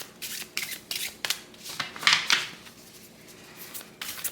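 Tarot cards shuffled by hand, a run of soft papery riffles and rubs in short bursts, close and fairly quiet, with no voices.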